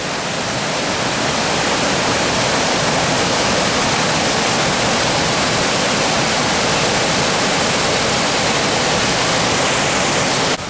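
Waterfall on the Ingleton Waterfalls Trail in the Yorkshire Dales, a steady loud roar of rushing, spraying water heard up close, unbroken throughout with no voices.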